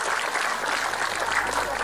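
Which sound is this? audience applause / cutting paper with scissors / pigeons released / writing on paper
audience applause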